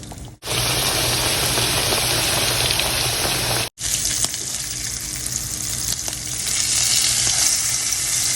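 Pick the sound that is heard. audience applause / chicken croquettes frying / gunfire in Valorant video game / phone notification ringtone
chicken croquettes frying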